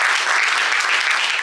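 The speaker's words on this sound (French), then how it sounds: "Applaudissez très fort." Audience at a business and entrepreneurs' meeting in a theatre claps loudly, a thick continuous burst of applause from many hands, brief and close, with no voices over it.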